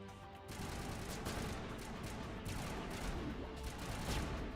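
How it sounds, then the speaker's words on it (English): Gunfire from Geth enemies in the Mass Effect video game, a dense continuous volley of rapid shots with no pauses, steady and moderately loud throughout, no voices. "And now they're shooting on me."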